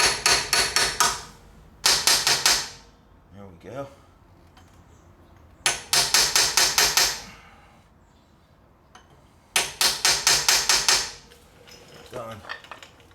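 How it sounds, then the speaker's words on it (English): Three bursts of rapid metallic hammer taps driving a seal driver into a Jeep Dana 35 differential, each a quick run of about six sharp strikes with pauses between. Someone speaks briefly. "Take my hammer and I'll start tapping this around."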